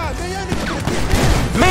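Gunfire in GTA 5 during a firefight, a dense run of shots rattling close by over a busy game soundscape, with someone talking over it.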